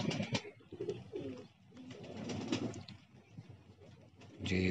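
Soft, low pigeon coos repeat through the clip alongside rustling and faint background noise, fairly close and at a moderate level.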